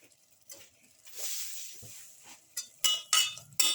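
A pepper garlic chicken potato stew being mixed in a pot, heard as soft scraping and stirring followed by several sharp clinks of a utensil against the pot near the end.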